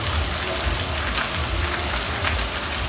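Steady rain falls and patters on a surface, a dense, even hiss that continues without a break.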